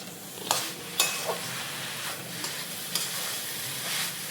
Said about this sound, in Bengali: এটা জাল হচ্ছে কড়াইতে।